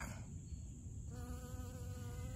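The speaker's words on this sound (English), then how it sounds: "Honeybees checking out my mustard greens already." Honeybees buzz around mustard greens in a garden, a steady faint droning hum that shifts pitch partway through as a bee moves nearby.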